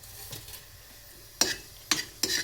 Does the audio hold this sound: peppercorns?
yes